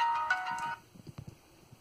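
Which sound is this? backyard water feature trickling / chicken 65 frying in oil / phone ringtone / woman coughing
phone ringtone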